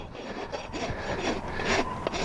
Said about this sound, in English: now I'm going to go ahead and rasp this front flat